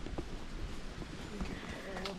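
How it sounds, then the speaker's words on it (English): Horse hooves clip-clop in a steady rhythm while riding horseback toward a beach in Colombia, with a person talking over the quiet, close footfalls. "So, we got horseback to the first beach."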